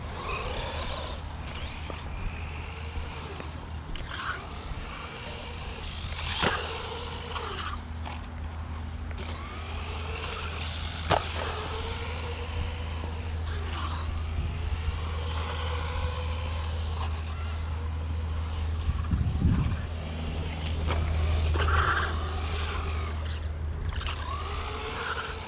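An Arrma Kraton Sledge 1/14 scale RC truck runs its electric motor with a continuous whine that swoops up and down in pitch as it accelerates, heard close over outdoor noise with occasional brief speech.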